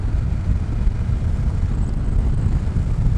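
A 2021 BMW S1000XR motorcycle riding through town, heard as a continuous low engine rumble mixed with wind buffeting, steady and fairly close.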